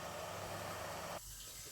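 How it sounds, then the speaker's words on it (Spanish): Whole chicken breasts fry in hot oil with a loud, steady sizzling hiss that drops abruptly to a quieter simmer partway through, with no voices. "le vamos a añadir las pechugas, así, enteras. Las vamos a freír hasta que estén doraditas por los dos lados."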